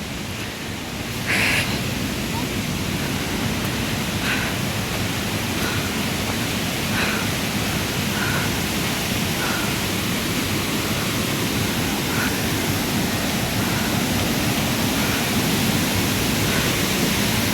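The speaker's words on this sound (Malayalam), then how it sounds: "അവിടെ കേട്ടോ വലിയ വെള്ളച്ചാട്ടം, ഭയങ്കര സൗണ്ട് ഉണ്ട് വെള്ളത്തിൻ്റെ കേട്ടോ" The Thusharagiri waterfall roars as a steady, dense wash of rushing water that stays loud and unbroken from start to finish.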